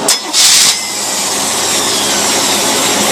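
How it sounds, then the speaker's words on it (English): A Chevrolet marine engine fitted with a Rochester two-barrel carburetor catches after a brief crank, then settles into a loud, steady, hissing roar that fills the space close by. "As you see, that carburetor started right up."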